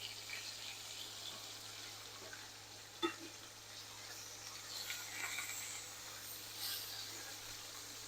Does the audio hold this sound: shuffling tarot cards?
no